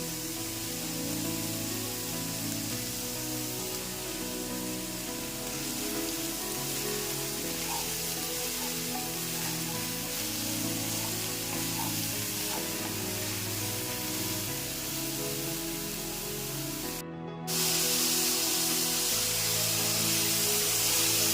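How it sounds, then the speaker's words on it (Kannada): Mushrooms fry in hot oil in a pan, a steady dense sizzle and crackle that runs unbroken for a long stretch, then briefly cuts out and returns louder and brighter, with no talk. "ಸ್ವಲ್ಪ ಹೊತ್ತು ಎಣ್ಣೆಯಲ್ಲಿ ಫ್ರೈ ಮಾಡ್ಕೊಂಡಾದ್ಮೇಲೆ ಈಗ ತಗೊಂಡಿರುವಂಥ ಮಶ್ರೂಮ್ನ ಇದ್ರ ಜೊತೆಗೆ ಸೇರಿಸ್ಕೊತಾ ಇದ್ದೀನಿ."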